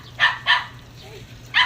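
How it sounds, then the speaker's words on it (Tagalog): A dog barking at cats, three sharp, close barks in an uneven rhythm, two quickly in succession and a third after a pause. "Tahol ng tahol kasi tinataholan niya yung kaaway niya mga pusa"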